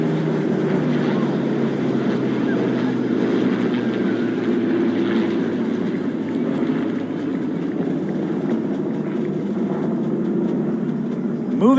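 A P-51 Mustang propeller fighter flies over during the 2020 Salute to America event at the White House, its broad engine drone sustained and loud throughout.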